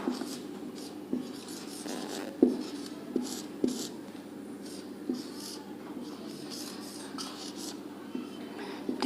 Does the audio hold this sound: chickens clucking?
no